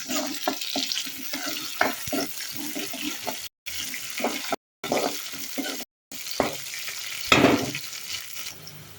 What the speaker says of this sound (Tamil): வெங்காயம் கொஞ்சம் வதங்கிடுச்சு கருவேப்பிலை கொஞ்சம் போட்டு வதக்கலாம்